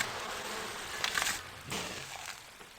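Faint, steady buzzing of bees from the farming-village video game Farthest Frontier, a soft insect drone that swells briefly near the middle before settling back.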